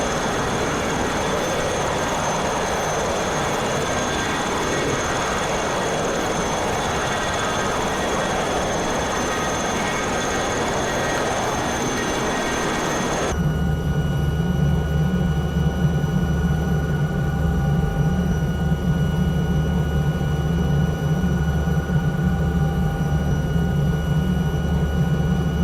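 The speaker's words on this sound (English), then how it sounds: "Beautiful little helicopter." Alouette III helicopter in Microsoft Flight Simulator 2024, a steady broadband turbine and rotor roar heard from outside that shifts partway through into a deeper, lower drone with a humming tone, continuous and loud.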